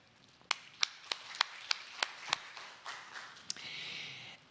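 Scattered audience applause for a panel host at an experts' panel, a handful of sharp separate claps in a slow irregular rhythm that thin out, fairly faint and with no talking.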